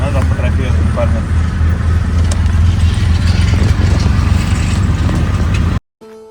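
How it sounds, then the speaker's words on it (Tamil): Heavy road traffic in Delhi near schools, heard from inside a car: a loud, constant engine rumble and roadway roar that cuts off abruptly near the end. "இங்கே டெல்லியில் குழந்தைங்களுக்கு எக்ஸாம் ஓடுறதுனால எல்லா இடத்துலையும் குழந்தைங்க போகிறது வர்றது பக்கம் நிறைய ஸ்கூலுக்கு நம்ம வீட்டு பக்கத்தில், அதனால் ரொம்ப டிராஃபிக்காக இருக்குது பாருங்கள்"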